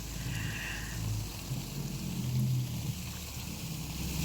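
Water is sprayed over a dirty, rain-wet street outside a factory in Taiwan, giving a steady broadband hiss and splatter with a low rumble underneath, close and continuous throughout.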